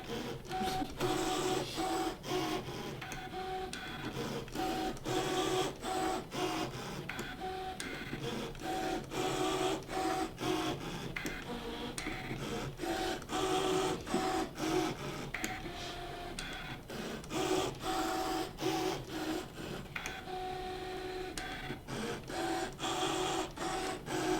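A Brother ScanNCut cutting machine running continuously, a steady mechanical whir with rapid rhythmic ticking and clicking of the carriage moving back and forth, close and alone for the whole stretch.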